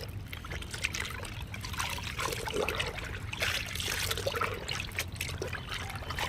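Water trickles and splashes steadily into a bucket set aside for washing cotton nighties, a continuous close pour with light sloshing throughout.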